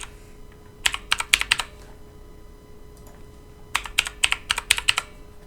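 Two quick bursts of keystrokes on a computer keyboard as a password is typed during a Linux installation, crisp close clicks separated by a short pause, with no talking.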